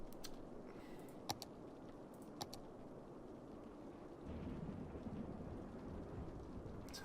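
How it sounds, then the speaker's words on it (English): Steady video game rain hisses throughout, with a few sharp clicks and a deeper rumble swelling in the second half, like distant thunder under the downpour. "Sounds like the rain is absolutely going off on one as well."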